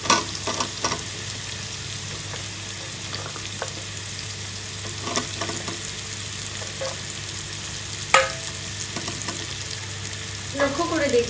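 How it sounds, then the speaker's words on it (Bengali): Potatoes and pointed gourd fry together in a pan for a Bengali aloo potol curry, giving a steady close sizzle broken by a few sharp spatula clatters and scrapes. "এবার দিয়ে দেবো এর মধ্যে কেটে রাখা পটল।"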